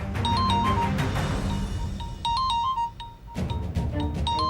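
A phone ringtone plays as a repeating electronic melody of bright, short tones, pausing briefly near the middle before resuming, fairly loud and close, with no talk over it.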